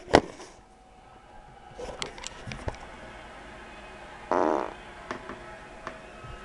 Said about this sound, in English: I got a fart. I'm gonna fart on the table.